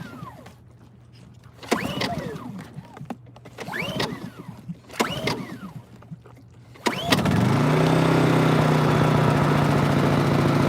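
Small generator engine cranked with several hard pull-start surges, catching on the last pull and settling into a steady, loud idle.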